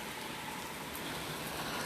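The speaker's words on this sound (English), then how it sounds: "It's raining right now." Steady rain pours outdoors during a storm, a dense, continuous hiss close by with no letup and no voices over it.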